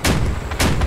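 Two sharp, loud blasts of MG13 machine gun fire from the vehicle combat game Crossout hit about half a second apart, close and heavy against steady engine and battle noise.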